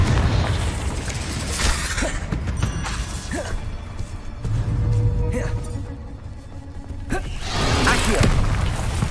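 Repeated blasting-spell explosions from a wizard video game, with several broad booms and crashes around the start, middle and end amid continuous game ambience and effects.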